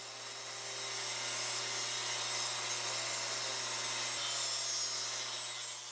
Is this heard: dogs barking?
no